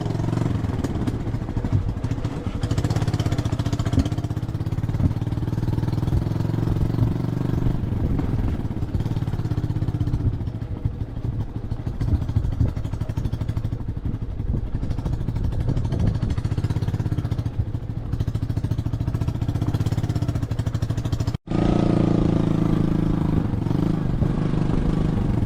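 Motorcycle engine chugging steadily while riding slowly along a narrow, muddy footpath in the Konkan countryside, loud and continuous with clattering, briefly cutting out near the end before resuming.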